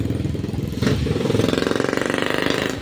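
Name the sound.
passing motorcycle engine noise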